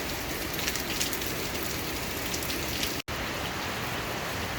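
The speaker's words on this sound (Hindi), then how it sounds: "बारिश पिछले 48 घंटे की तरफ जा रही है, नॉन स्टॉप रेन।" Steady, non-stop monsoon rain pours down in Lonavla, a dense, even hiss of drops on surfaces that holds constant throughout with a single momentary break, no voices.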